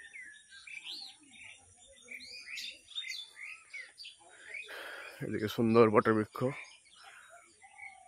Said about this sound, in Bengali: পাখির কলতান